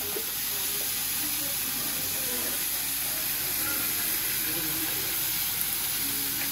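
Pointed gourd pieces frying with salt in a pan make a continuous hissing sizzle, steady and fairly close, with no clear talking.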